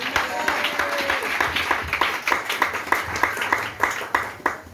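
A church congregation claps loudly and steadily for several seconds during an independence day celebration service, the sharp hand claps crowding together with faint voices mixed in.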